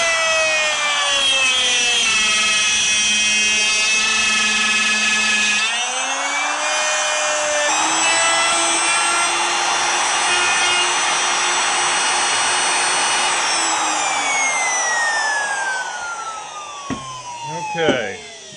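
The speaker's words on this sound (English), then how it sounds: "When you use a router, just keep it level and let the guide bushings follow the jig." A router with a large bit cuts dovetails in wood boards guided by a General #861 Dovetail II jig, producing a loud sustained whine that shifts pitch as it moves through the cut, then winds down at the end.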